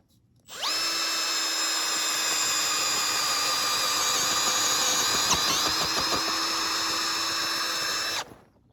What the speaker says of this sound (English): So it's like a drill. It's like a bulb planter.